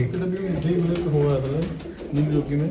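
Bearded red pigeons coo in a steady, repeated low warble nearby, continuous throughout, with a voice speaking over them.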